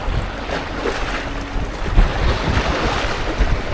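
Strong coastal wind buffets the microphone during shore fishing on Lanzarote, a continuous rough roar with surf-like swells and gusts, fairly loud and with no talk.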